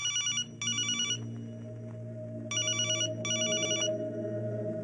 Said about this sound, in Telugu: ఫోన్ ఎత్తడేట్రా?